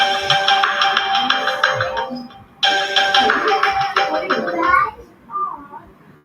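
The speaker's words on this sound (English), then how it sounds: "Incoming call from India identified by true caller." A phone ringtone plays loud and close for an incoming call, a repeating electronic melody that stops briefly and then resumes before fading out.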